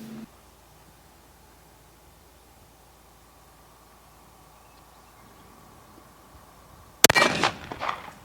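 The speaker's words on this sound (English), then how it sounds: "we're going to go shoot a couple 5-shot groups for you guys and chronograph it" After a long stretch of near silence outdoors, a 6PRS Moses rifle firing 108 ELDM rounds lets off a single sharp, loud crack followed by a brief rattling echo.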